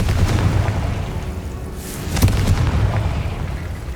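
Confringo blasting spell in the Hogwarts Legacy video game, a heavy low-end boom with a rolling rumble that sustains throughout, punctuated by a few sharper crackling bursts, loud and close with no speech.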